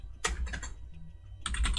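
Fingers tapping out a command on a computer keyboard, two quick bursts of close, crisp key clicks separated by a short pause, with no talk.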